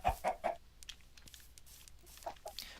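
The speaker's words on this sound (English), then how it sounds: "I think chickens are the fastest livestock animal you can get." Chickens in the Minecraft video game give short, quiet clucks: a quick burst of three near the start, then scattered soft clucks and a few more toward the end.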